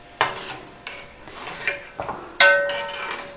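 A spoon stirring tea powder and dried amla in a metal pan, several distinct scraping clinks spaced irregularly, close and fairly loud, with no voices.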